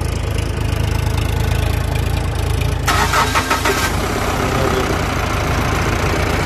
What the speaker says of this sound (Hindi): देखिए दोबारा सेल्फ लगाएगा